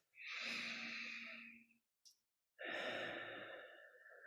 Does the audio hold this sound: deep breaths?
yes